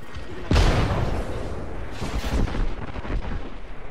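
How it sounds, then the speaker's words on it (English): A grenade blast in the Apex Legends battle royale game hits loud and close with a deep boom, then rumbles and crackles on with further distant blasts and gunfire. "Grenade."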